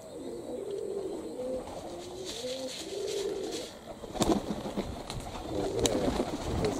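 Cochin and Brahma pigeons coo repeatedly at a dovecote, soft throaty rolling calls close by, with a few sharp wing flaps and clatters later on.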